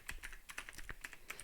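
Quick light keystrokes on a computer keyboard, about a dozen soft clicks in an even typing rhythm, quiet and close.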